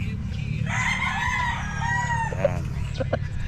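A rooster crows in a long, strained call over steady low background noise, followed by a couple of short clucks near the end.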